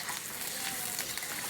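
Green chillies and a cup of chopped onion fry in hot oil in a wok, giving a steady, close sizzle with a bright hissing crackle throughout the short stretch, with no talking.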